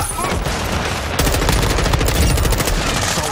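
Rapid gunfire from a Call of Duty match, with the player taking hits: a dense, loud, continuous burst of shots that grows heavier and more intense partway through, with no break.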